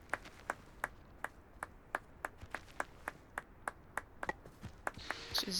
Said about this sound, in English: She's just randomly clapping.